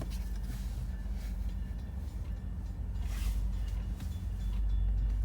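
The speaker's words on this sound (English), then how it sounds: "Our train's coming." Low rumbling of Norfolk Southern train 136 with maintenance equipment approaching and entering a rail yard, a steady heavy drone slowly growing louder, with faint rattling above it.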